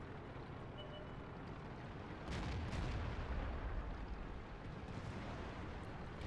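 Tank cannon shots in the World of Tanks video game, heavy booming blasts under a constant rumbling engine background, with a louder burst of firing in the middle, fairly faint overall.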